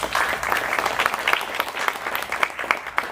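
Audience applause at a ribbon cutting for Cavender's Boot City, dense steady clapping from a crowd that holds strong throughout without pause.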